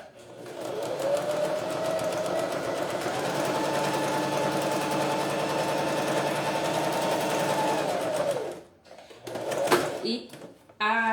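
A sewing machine stitches synthetic fabric in a long, steady whirring run for about eight seconds, then stops, leaving a few soft clicks and handling sounds.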